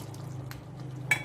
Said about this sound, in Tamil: வரமிளகாய், பிரியாணி மசாலா எல்லாத்தையும் நல்லா கலந்துக்கலாம்